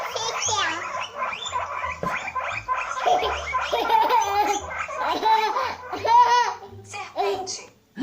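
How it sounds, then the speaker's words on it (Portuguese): A guinea pig squeaks in quick, repeated high-pitched chirps and whistles, close and fairly loud, running continuously for several seconds. "Porquinho da Índia."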